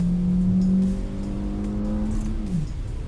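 A non-turbo 1.2-litre four-cylinder petrol engine in a 2024 Kia Sonet base model runs steadily up close, a low droning hum whose pitch holds and then drops as revs fall, with no talking.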